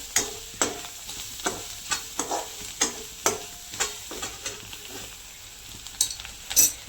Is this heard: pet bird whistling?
no